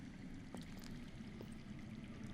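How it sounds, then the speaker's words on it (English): Underground water flowing in the video game Game of Thrones by Telltale, a faint, continuous low rushing murmur with a few soft splashy ticks, heard alone. "I hear water. From underground."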